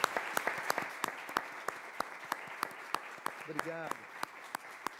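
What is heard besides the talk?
applause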